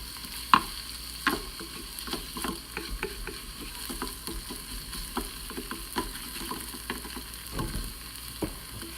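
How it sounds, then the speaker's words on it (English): Tomato paste cooks in an Instant Pot under a soft, constant sizzle, with a spoon clicking and scraping the pot at irregular intervals, close and moderately quiet, with no speech. "let the tomato paste cook out for about another probably 30, 40 seconds. Just give it a nice stir."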